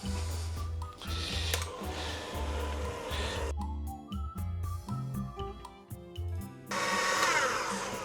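An electric mixer beats Polish Sernik Krakowski cheesecake batter with vanilla: a loud motor whir that runs steadily, drops away abruptly with clattering and scraping in the bowl, then surges back to full speed.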